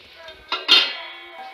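A metal lid clanks down onto a pan of poha, one sharp metallic clink with a brief ring-out, heard close over a low steady background hum.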